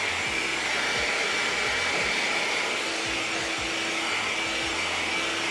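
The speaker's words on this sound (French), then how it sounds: "L'avantage du sèche-cheveux, c'est vraiment que vous pouvez travailler plus rapidement sur vos couches de peinture" A hair dryer blows a steady, loud whooshing hum close by, used to dry paint on an ABS RC car body, with faint low thumps underneath.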